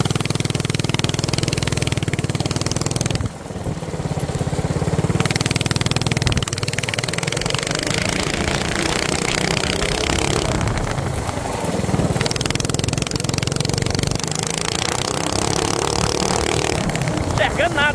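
An 80cc go-kart engine drones loudly and continuously while driving, with its pitch rising and dipping as the throttle changes, and a voice talking over it.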